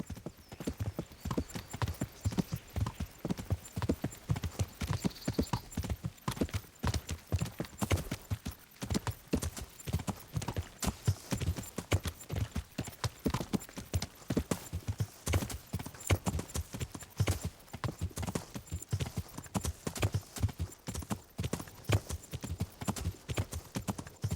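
Horse hooves clip-clop steadily while riding in Kingdom Come Deliverance, a fast, regular rhythm of close hoofbeats continuing throughout, with faint ambient sounds underneath.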